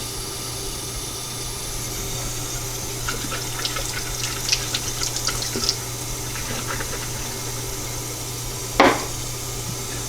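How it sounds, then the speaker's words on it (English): Cold water runs from a tap into a container during a homebrew yeast starter, a steady splashing flow with a few brighter splashes midway and a short, louder gush near the end. "We will run some cold water in it."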